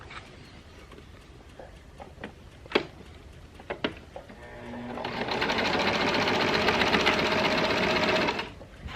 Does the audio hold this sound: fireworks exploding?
no